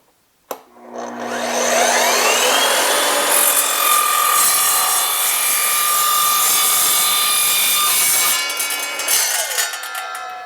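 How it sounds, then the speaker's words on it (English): An Evolution sliding miter saw with a multi-material blade spins up with a sharp click and a rising whine, then cuts through aluminum in a loud, sustained screeching grind before winding down and rattling to a stop. "I'm going to cut one piece of aluminum with the multi-material blade"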